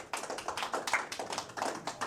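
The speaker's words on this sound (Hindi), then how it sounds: "पहले तो आप लोग ना ताली बजाइए इस पूरे शो के लिए" A live stand-up comedy audience claps at an indoor show, a brief burst of rapid, fairly faint applause that fluctuates in rhythm with no talk over it.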